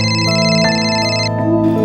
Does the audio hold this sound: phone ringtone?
yes